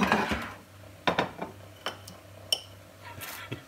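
A knife spreads butter over toasted crumpets, giving a handful of short scrapes and light clinks spaced about half a second apart against a quiet background hum.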